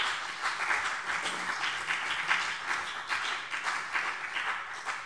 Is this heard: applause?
yes